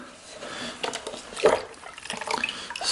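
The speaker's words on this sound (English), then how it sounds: "Got a bucket of water and a cup." Water from a bucket is tossed by cup onto a car window treated with Gtechniq G5 glass coating, giving a soft splashing and trickling wash at low volume with a brighter splash midway.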